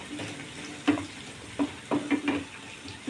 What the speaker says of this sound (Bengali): রসুনটা বেশি আমি ভাজবো না, বেশি ভাজলে তাহলে রসুনটা পুড়ে গেলে একদমই ভালো লাগবে না।